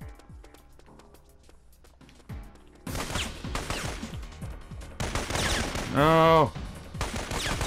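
Gunfire in the PS4 game Syphon Filter comes as sparse shots at first, then dense bursts of rapid fire that grow louder, with a short voiced exclamation and a tonal game sound cutting through.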